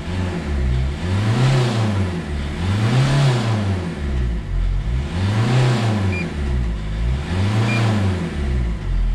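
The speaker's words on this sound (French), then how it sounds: "moteur il est énervé là. Il rugit comme un VR6 mon pote." A diesel car engine undergoing decarbonizing is revved hard in four long rising and falling swells, loud and close, with no one talking.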